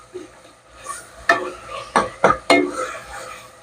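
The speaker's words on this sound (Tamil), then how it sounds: "பெருஞ்சீரகம் தான் போட்டு தாளிக்கணும்" Fennel seeds sizzle in hot oil while tempering in a pan, under a soft steady hiss with several sharp metallic spoon scrapes and clinks against the pan as they are stirred.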